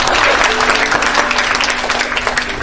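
A church congregation claps together in steady, dense applause, loud and close throughout with no talking over it.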